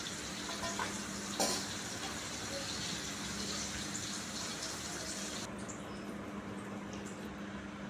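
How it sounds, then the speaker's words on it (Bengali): Bay leaves and whole garam masala hiss steadily in hot oil as they are stirred, with a soft utensil knock early on and the sizzle easing slightly toward the end. "এবার ওই তেলের মধ্যে আমি কিছুটা তেজপাতা আর গোটা গরম মশলা দিয়ে একটু নেড়ে চেড়ে নেব"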